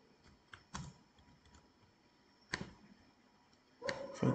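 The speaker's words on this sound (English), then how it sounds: "type it instead." Computer keyboard typing, faint and sparse, with a few sharper key clicks spaced out and a short cluster of louder keystrokes near the end.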